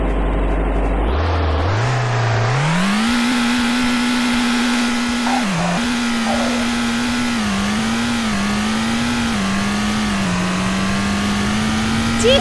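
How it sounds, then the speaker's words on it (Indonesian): An upgraded Nissan S15's engine in the Roblox game Car Driving Indonesia revs up from idle into a loud, steady droning whine that wavers slightly in pitch as it holds, heard up close with no talking. "Aku juga mau tes suaranya ya, abis di upgrade mesinnya tuh ada suaranya yang bagus."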